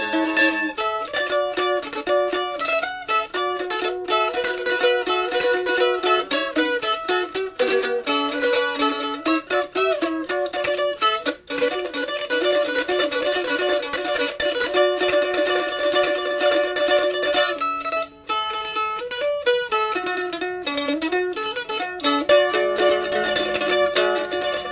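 Strings played with a pick using a multiple-attack technique, giving dense, fast rippling plucked notes that run continuously with a few tiny gaps, clear and upfront with no voices.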